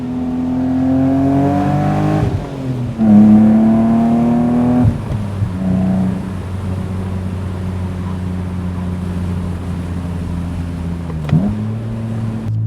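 A BMW Z3 M Roadster engine pulling hard toward redline through several gears, each loud rising sweep ending in a sharp shift dip before climbing again, then settling into a steady cruising drone, close and alone.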